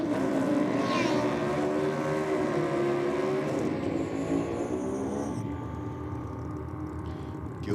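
A Kawasaki ZR1100 drag racing motorcycle makes a pass at a state championship drag meet: a loud, sustained engine roar with rising and shifting tones that eases off and grows more distant toward the end.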